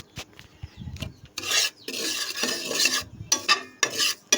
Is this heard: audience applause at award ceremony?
no